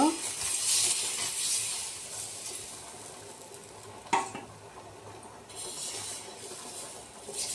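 Batter for vegetable spring roll wrappers spreads across an oil-brushed griddle with a continuous close sizzle, a brief scraping clatter partway through, then steady frying hiss.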